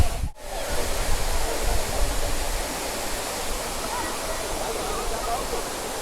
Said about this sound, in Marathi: खूप छान आहे हा धबधबा